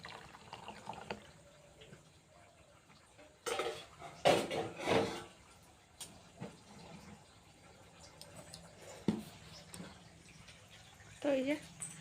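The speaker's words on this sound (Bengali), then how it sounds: "আগে থালা বাসনের কাজটাকে মিটিয়ে দিই" Dishes, pots and pans are washed by hand, with scattered clinks, clatters and splashes of water in short bursts over a quiet background, while a person talks at times.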